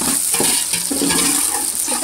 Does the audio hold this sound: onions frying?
yes